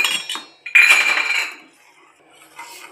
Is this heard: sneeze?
no